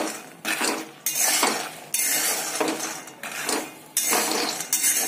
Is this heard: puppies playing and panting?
no